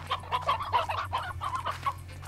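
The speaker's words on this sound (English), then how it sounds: "Chickens!" Chickens in the video game Slime Rancher cluck in a quick series of short, close calls, repeating rhythmically with little else in the background.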